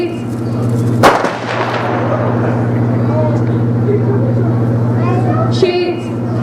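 A simulated 4-inch naval gun aboard HMS Belfast goes off in one loud, sharp blast that rolls away into a long echoing boom, heard over a steady low engine-like hum while someone shouts fire orders.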